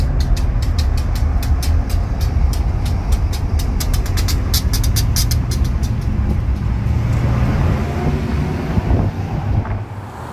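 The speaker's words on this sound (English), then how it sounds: "we see an empty coal train on its way back to the mines entering the Stampede subdivision" An empty coal train heads back to the mines, rolling past in a loud, steady rumble with a run of rhythmic wheel clicks over rail joints, while wind buffets the microphone throughout.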